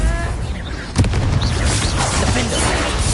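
Bombarda spell explosion in the game Hogwarts Legacy, a sudden booming burst about a second in, followed by rumbling debris and crackling game effects that keep a dense, loud backdrop.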